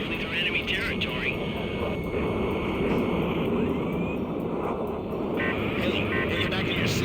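A transport plane's engine in the video game Ace Combat 5 drones steadily under constant radio-style talk, a continuous mid-low roar that holds even throughout.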